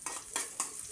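Onions and green chillies fry in a pan, heard as three quick scraping strokes of a spoon against metal over a faint sizzle.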